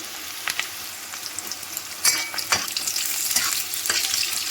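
Lightly browned onion with cashews and raisins stirred in hot oil, a loud close sizzle with irregular scraping strokes of a spatula that grow busier toward the end.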